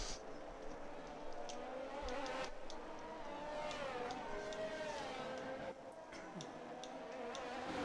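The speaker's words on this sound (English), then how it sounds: "You may be able to hear the cars. They are starting their formation lap" Racing cars on a formation lap at Monaco buzz faintly in the distance, their engines whining and rising and falling in pitch as they pass, blended with crowd ambience and a steady background hiss.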